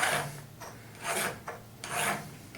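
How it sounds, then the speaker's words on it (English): A metal file rasps across a round part held in a half-opened vise or V-block, three distinct scraping strokes with brief pauses between them, close and clear with no talking. "if you want to deburr something round with a file for whatever reason"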